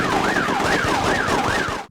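Wailing police siren from the London street ambience of the PS2 game The Getaway, a loud, close two-tone sweep that rises and falls about four times before cutting off abruptly.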